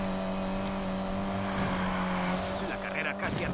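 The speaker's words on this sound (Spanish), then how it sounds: "cómo se oyen los motores." Lancer Evolution race car engines in a racing video game, a steady loud droning roar with layered engine tones throughout, rising into brief tire screech near the end.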